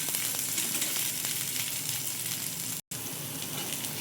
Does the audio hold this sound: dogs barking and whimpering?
no